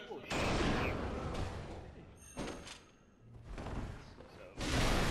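Video game gunfire in bursts: a loud volley, a pause, a second volley, then another heavy burst at the end, with thuds mixed in and no talking.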